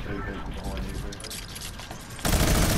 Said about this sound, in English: I just out minigun sprayed the minigunner.